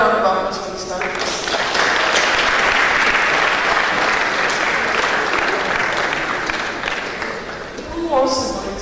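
Enthusiastic applause from a tech-conference audience after a talk, dense clapping throughout, with brief voices at the start and end of the clip.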